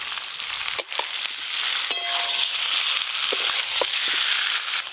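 Young jackfruit and fried eggs sizzle steadily in a spiced pan, with a loud, continuous frying hiss, a few clanks from a stirring spoon and short scraping taps.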